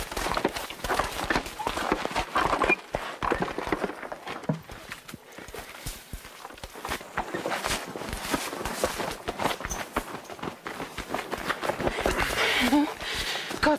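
Horse hooves clip-clopping in a scene from a Latvian drama series: dense, uneven thuds and clatter at close range over a noisy outdoor background, with movement throughout.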